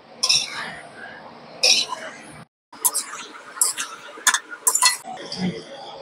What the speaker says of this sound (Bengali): বাঁধাকপি আর পালং শাক দিয়ে দিচ্ছি, ভালো করে নেড়ে মিশিয়ে নিই